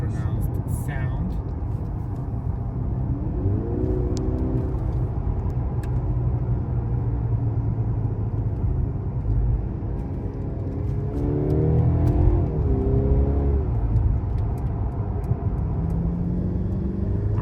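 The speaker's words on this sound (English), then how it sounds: "And then if I put the car into Sport Plus mode" A Mercedes C-Class engine drones steadily in Sport Plus mode while driving on European roads, with a continuous low rumble and a few rising revs as a voice talks over it.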